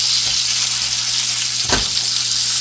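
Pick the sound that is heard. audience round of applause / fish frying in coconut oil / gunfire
fish frying in coconut oil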